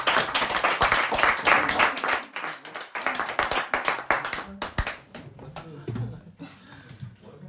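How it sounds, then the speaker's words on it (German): Applause and clapping from a live radio show audience in Treptow, loud and continuous, thinning out toward the end. "Großer Applaus."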